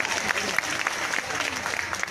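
Enthusiastic audience applause at a school alumni gathering in an assembly setting, dense steady clapping from a crowd filling the whole stretch at a fairly even level.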